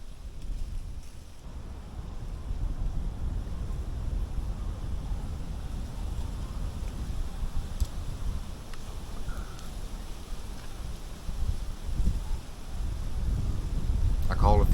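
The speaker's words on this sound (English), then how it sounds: "Really, it was too hard to hear anything with the wind." Steady, blustery wind roars across an open hunting ground on public land during white-tailed deer season, buffeting the microphone with a low rumble that swells louder toward the end.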